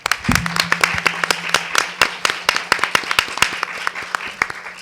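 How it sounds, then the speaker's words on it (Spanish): Scattered hand claps from a small audience at a journalism talk, distinct and fairly close, keeping an uneven steady rhythm for several seconds over a low hum. "Así que le damos la palabra y un aplauso a Pablo Semana, el primer expositor."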